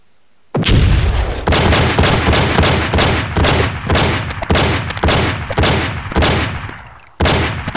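Grenades explode in the video game Enter The Matrix, heard as a rapid barrage of about a dozen loud, sharp blasts in near-regular succession, each decaying briefly before the next.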